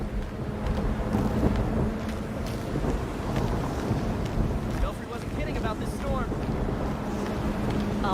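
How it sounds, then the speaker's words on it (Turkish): Storm wind rushes steadily through a Batman video game scene, a dense roaring whoosh with distant rumbling, filling the whole stretch and holding at an even loudness throughout. "Baksana fırtına efekti falan."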